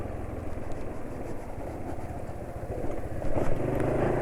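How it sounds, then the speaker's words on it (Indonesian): A motorcycle engine decelerates under engine braking, its RPM dropping slowly, a steady close mid-pitched drone that swells a little louder near the end, with no voices. "RPM mesin nggak cepat turun."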